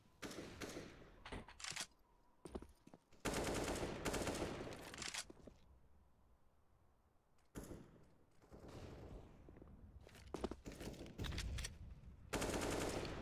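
Rapid bursts of automatic rifle fire and sniper shots in a CS:GO match on the Nuke map, several loud volleys separated by quieter gaps, no talk over them.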